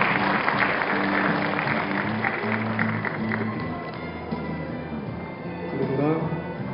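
Audience applause at a university degree ceremony in Seoul, a steady wash of clapping under a low droning tone, with voices faintly present.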